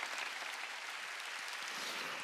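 Church congregation applauding during a Wednesday worship service, a steady wash of clapping from many hands that holds evenly throughout, fairly distant and without speech.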